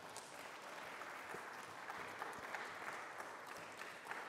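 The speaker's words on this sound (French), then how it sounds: "vous pouvez applaudir en son absence" Faint, distant audience applause at a political book prize ceremony following a round table, a soft continuous patter of many hands that stays low and even throughout.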